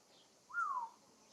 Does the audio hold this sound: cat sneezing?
no